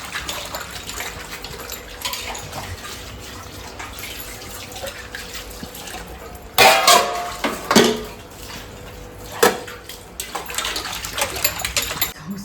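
Dishes being scrubbed and rinsed under a running kitchen tap: a steady stream of water with bursts of clattering pots and utensils, loudest in a few close clanks midway.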